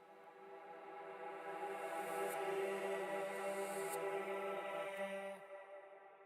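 A sung vocal track drenched in reverb inside Ableton Live, a sustained layered tone with a smeared, washy tail that swells midway and fades slightly toward the end, with no talking over it.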